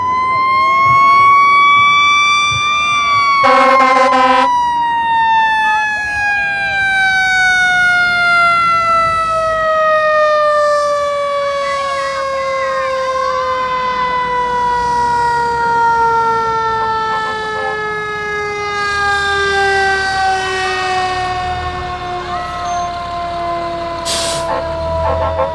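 A loud fire engine siren wails in a long, slowly falling tone, with sharp hisses of air brakes bursting out as the truck pulls up to a mock crash scene.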